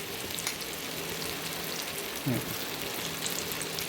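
Masala idli batter hits a hot pan with a steady, close frying sizzle throughout, and a brief louder spatter rises near the middle as more batter goes in.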